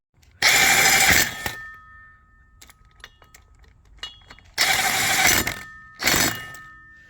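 A ratchet tightening bolts on a transfer case bracket of a Mercedes ML350/GL450 (W164/X164), three bursts of rapid clicking ratchet strokes separated by quiet gaps with small metallic clinks and tool handling.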